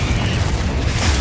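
A Confringo fire spell explodes in Hogwarts Legacy, producing a loud, dense, low booming burst that fills the whole short moment without letting up.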